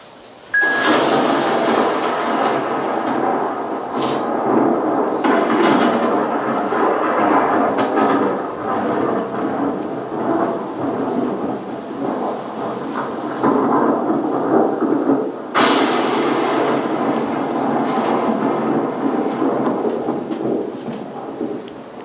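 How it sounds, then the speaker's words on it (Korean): Loud, rolling thunder rumbles on and on over steady rain, with a sharper crack bursting out partway through before the roar settles back. "그러나 다시 한번 천둥 소리를 들어보실까요?"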